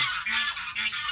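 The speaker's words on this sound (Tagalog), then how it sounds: "ang mga gansa girinaway na" Geese honk in a quick series of nasal calls near a construction site, sharp and fairly close, repeating several times within about a second with no speech.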